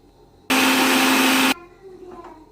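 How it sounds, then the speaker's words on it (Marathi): An electric kitchen mixer grinding whole spices such as cumin and coriander runs in one loud, steady roaring burst of about a second, cutting off abruptly into quiet room noise. "आता हे सर्व मिक्सरमधून बारीक काढून घेते मी"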